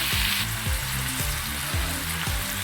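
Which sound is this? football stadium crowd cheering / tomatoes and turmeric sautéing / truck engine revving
tomatoes and turmeric sautéing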